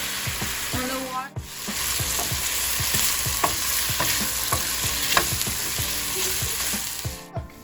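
Pork fat bubbling and frying in a pan while a utensil scrapes and stirs it in a steady series of knocks, with a continuous close sizzle underneath.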